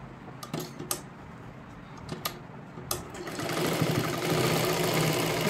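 Lehenga fabric for a small girl's dress is stitched on a sewing machine: a few sharp clicks and short stitches give way to a loud, steady, close motor run over the last half.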